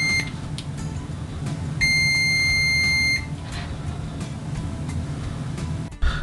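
Continuity beep from a PTM19A multimeter, a steady high-pitched tone lasting about 1.5 seconds, clear over a low background hum.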